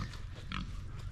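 Pigs on a homestead farm grow excited at feeding time, giving a short, close burst of grunting and squealing over steady low barnyard rumble.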